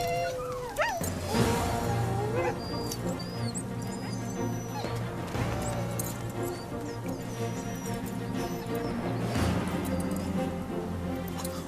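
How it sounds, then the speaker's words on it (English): Restless huskies, sled dogs waiting to set off in snow, whining, yipping and barking, with several overlapping high whimpers and short barks over a steady low hum. "Huskies are originally from Siberia, where they've been used as sleigh dogs for centuries."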